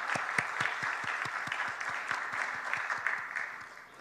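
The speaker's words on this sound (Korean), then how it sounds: "우리 박수로 그동안 수고 많이 하셨습니다." A church congregation applauds during a Sunday service, a brisk, even run of claps from many hands in a reverberant hall that tapers slightly toward the end.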